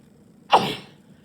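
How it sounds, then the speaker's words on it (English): A single sharp allergy sneeze bursts out mid-clip, loud and close, then trails off quickly into quiet room tone. "you'll just have to suffer with me sneezing"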